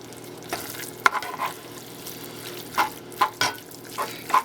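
Fatty ground beef frying and being stirred in a pan, a steady close sizzle broken by several scraping stir strokes, with no talk.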